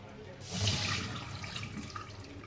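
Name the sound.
rice rinse water poured out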